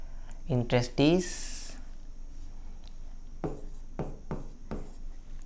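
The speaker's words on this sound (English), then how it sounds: "Therefore, I write it now." Handwriting on paper while working through a company accounts problem: a few soft, close scratching pen strokes after a brief spoken phrase, with a quiet steady hum underneath.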